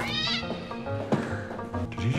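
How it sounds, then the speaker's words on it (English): A cat yowls and meows in a film scene as it is thrown out a window, the cries loud and wavering over music and other movie sound. "Did you just throw my cat out the window?"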